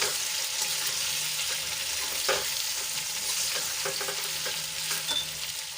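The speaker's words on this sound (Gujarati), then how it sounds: "હવે બધું સરસ રીતે હળવા હાથે આપણે મિક્સ કરી દઈશું" Methi muthiya being gently stirred with a hot tempering in a pan give a steady sizzle with soft scraping and clinking, close and continuous, with no talking.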